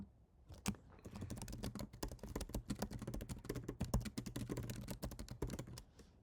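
Someone types quickly on a computer keyboard to enter a ChatGPT prompt: a dense, close run of key clicks lasting several seconds, with no talking.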